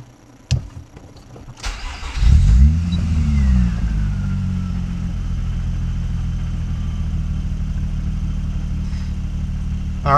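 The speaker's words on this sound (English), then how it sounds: "The car is now running" A click, then a Nissan Maxima car engine cranks and catches, revving up briefly before settling into a steady low idle that continues to the end.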